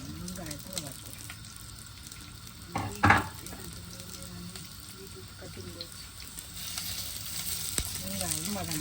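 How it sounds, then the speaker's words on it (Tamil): Onions frying in a pan for a Sri Lankan fish curry made without coconut milk, a steady close sizzle with a brief louder stir partway through, alongside faint voices. "வெங்காயம் வதங்கட்டும்."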